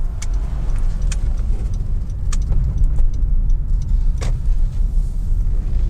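Inside a Honda Civic 1.8 i-VTEC EX five-door automatic as it drives and turns around, a steady low engine and road rumble fills the cabin, with scattered light clicks and rattles throughout.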